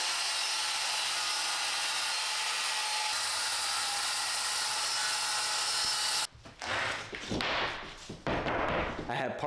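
A power saw rips a long strip of plywood freehand, a loud steady whine running through most of the stretch before cutting out into sharper bursts of handling and knocking near the end.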